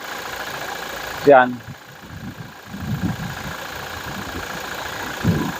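A 2019 Toyota Hilux G Conquest 4x4 with a 1GD 2.8 diesel engine idles with a steady low rumble in the background while someone speaks briefly over it.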